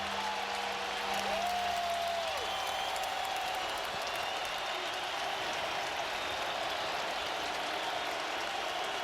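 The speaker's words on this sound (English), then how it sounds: "now the crowd is getting into it" A football stadium crowd roars at a Seattle Seahawks home game against the Indianapolis Colts, a broad, steady wash of distant cheering that holds evenly throughout with a faint whistle-like tone early on.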